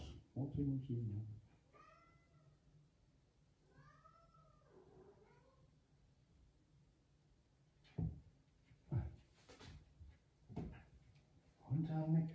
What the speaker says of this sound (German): Ich höre diesen Kater meckern.